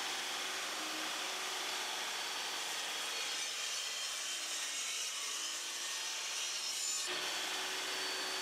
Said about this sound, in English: I take the shelves back to the table saw and cut them to the final size